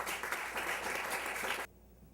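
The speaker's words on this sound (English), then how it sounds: "Let's give a big round of applause for Catherine." An audience at a literary reading applauds, a dense burst of clapping lasting about a second and a half before it cuts off sharply into quiet room tone.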